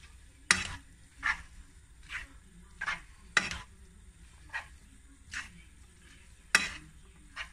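Tagliolini pasta with parmesan being stirred in a pan, a series of soft scraping, sloshing strokes coming in a steady rhythm roughly every second, close up with a light sizzle underneath.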